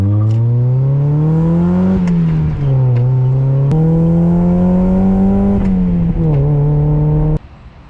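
A Mazda MX-5 NA8 Miata drives at night from inside the cabin, its engine droning loud and close and rising and falling through several shifts, then cutting back suddenly near the end.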